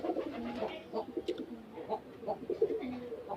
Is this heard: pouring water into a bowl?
no